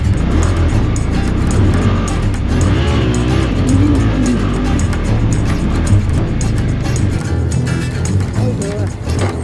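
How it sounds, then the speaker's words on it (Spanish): A car wheel spins and digs into loose sand at a camping area in Baja California, Mexico, a loud continuous engine roar and churning tire noise lasting throughout, with voices talking over it. "es que se me estaba enterrando la rueda"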